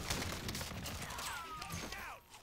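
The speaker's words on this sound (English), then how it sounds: "There's a guy up top. He's shooting me." Enemy gunfire in the video game Call of Duty Warzone Plunder: quiet, distant bursts of rapid shots mixed with whizzing sweeps and game noise.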